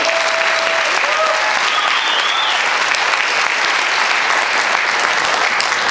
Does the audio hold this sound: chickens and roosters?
no